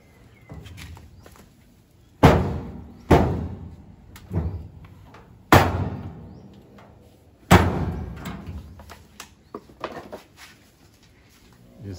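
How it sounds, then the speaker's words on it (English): Wooden smokehouse door for smoking ham with Thai tropical wood, knocked and shut in a series of sharp, loud slams and thuds with quieter rattles and handling noises between them, close by. "we will soon close the door"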